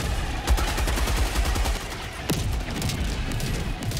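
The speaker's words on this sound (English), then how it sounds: "And I just dropped a walk barrage." Walking barrage strike in Helldivers 2, a dense run of rapid booms and cracks rolling on continuously, with a sharp heavy blast standing out partway through.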